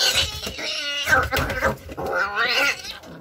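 A matted, aggressive cat yowls and caterwauls while being groomed, with drawn-out, loud, wavering cries in several bursts close up.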